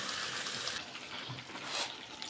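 Water from a rinsed bowl pours into a pan of mustard and poppy-seed paste curry, giving a steady, close, hissing gush that lasts throughout with no talking.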